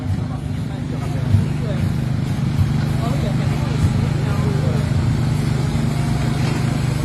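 A Land Rover engine revs gently and holds a steady, droning note while one wheel spins without grip off-road, with someone talking in French over the continuous engine hum.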